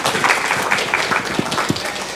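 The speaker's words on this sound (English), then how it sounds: "they really deserve a quick round of applause" Short, light round of audience applause at a technical conference talk, a scattering of claps at moderate level with no voices over it.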